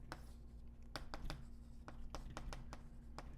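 Chalk or marker writing on a board during a mathematics lecture, with a series of short, sharp taps and scratchy strokes over a steady room hum and no talk.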